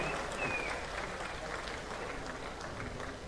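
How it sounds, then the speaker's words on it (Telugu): An audience at a political meeting claps in a dense, continuous wash of applause that stays fairly even and moderately distant throughout. "గట్టిగా చప్పట్లు కొట్టి అభినందించండి"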